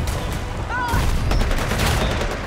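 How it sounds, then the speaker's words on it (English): Dense, loud explosions from grenades going off in Predator: Hunting Grounds, layered into a rapid rattling barrage over a steady rumble for a couple of seconds. "You guys are wasting all your grenades."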